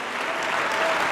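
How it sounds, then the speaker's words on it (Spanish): A church congregation claps together through a service, steady dense applause filling the space on its own without a break. "Fuerte, fuerte ese aplauso a Él"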